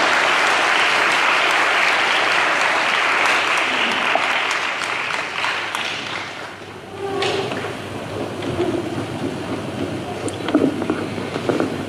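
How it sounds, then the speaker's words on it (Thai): An audience applauds to welcome a senior journalist, a dense wash of clapping that fades after several seconds into quieter room noise with scattered claps and shuffling. "ขอเสียงปรบมือต้อนรับคุณนิธินันท์ยอแสงรัตน์ผู้สื่อข่าวอาวุโสครับ"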